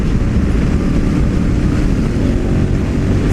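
A Honda Africa Twin CRF1000L2 motorcycle accelerates hard at full throttle in fifth gear, a steady loud engine drone blended with heavy wind rush, constant and close throughout.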